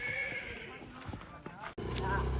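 Kathiyawadi mares on a night ride make close, clear hoof clip-clops and a brief whinny, with people talking over them.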